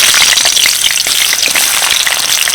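Potato pieces frying in a mix of oil and ghee for a vegetable biryani, a loud, steady close-up sizzle and crackle that fills the whole stretch with no voices.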